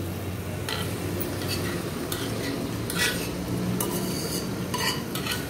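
A spoon stirs boiled dal into an onion-tomato gravy in a pan for dal palak, giving repeated scraping clinks over a steady low sizzle, with no one talking.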